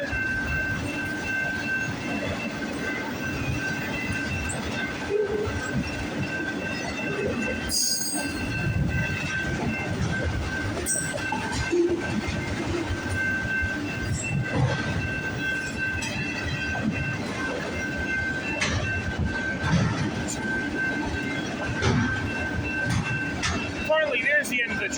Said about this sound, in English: Finally, there's the end of the train.